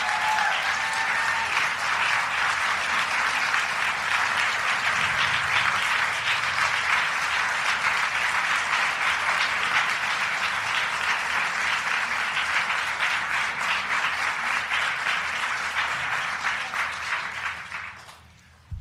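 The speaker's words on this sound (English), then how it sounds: "Let's give Sarah a big round of applause." An audience at an anniversary event for Roe v. Wade breaks into sustained loud applause, a dense wash of clapping lasting about eighteen seconds before fading out at the end.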